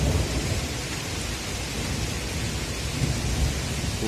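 Heavy August rain with thunder on a Sunday morning in 2017, a dense, steady roar of downpour with low rumbling underneath, continuous and close, no voices.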